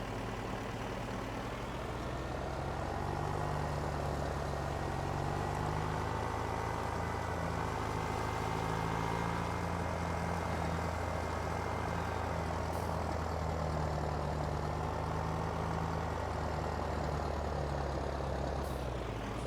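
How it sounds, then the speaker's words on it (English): An open-station tractor pulling a sprayer in Farming Simulator 19 runs its engine steadily, with a continuous loud low drone and harmonic hum throughout and no speech. "an open station tractor with a sprayer"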